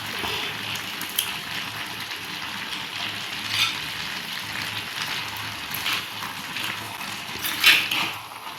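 Curry leaves crackle and sizzle in hot oil for a Naadan aviyal and thayir kulambu, giving a steady hiss with scattered sharp pops, a few louder spatters near the end.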